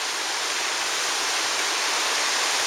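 Waterfall cascading down a volcanic gorge near Kolob in Zion National Park, a steady, dense roar of falling water that holds even and unbroken throughout, with no voices.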